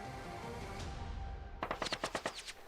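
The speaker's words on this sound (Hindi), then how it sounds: "तभी अचानक से गोली चलती है।" A burst of roughly eight rapid gunshots rings out on CCTV footage of a street, crackling and fairly distant after a moment of low background rumble.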